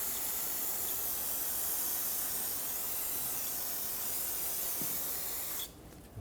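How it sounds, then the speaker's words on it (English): Brake parts cleaner sprayed from an aerosol can onto the brake area of a 2000-2005 Ford Excursion, one long continuous hiss lasting several seconds before cutting off abruptly. "we'll clean this area with some brake parts cleaner so that it can be free of any brake fluid"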